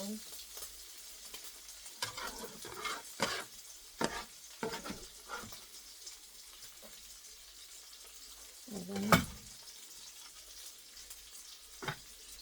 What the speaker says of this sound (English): let's go ahead and get our onion in there and let it get that going